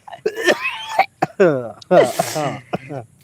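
A man coughing and clearing his throat in short harsh bursts, close and loud, mixed with voiced sounds.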